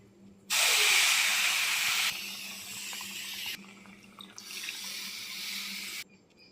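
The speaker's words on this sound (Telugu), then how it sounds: "పాలు నీళ్ళు వేసేసుకుందాము." Milk and water pour into a pan of ghee-roasted wheat rava for prasadam, a loud, steady rushing splash that starts abruptly, eases midway and stops, with no talking.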